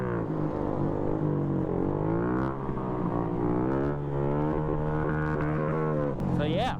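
A two-stroke mini moto engine revs hard, its buzzing tone rising and holding steady at high pitch and climbing again at the end, with shouting over it.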